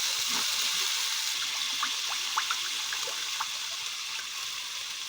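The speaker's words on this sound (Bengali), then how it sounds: "আমরা এবার গ্রেভির জন্য জল দিয়ে দেবো এর মধ্যে" Water pours and trickles into a cooking masala for gravy, a soft continuous splashy flow with a few faint clinks, fairly quiet and without talk.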